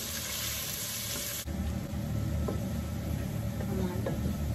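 Sliced onions sizzle in a pan for chicken tehari, a loud, continuous frying hiss heard up close with faint stirring.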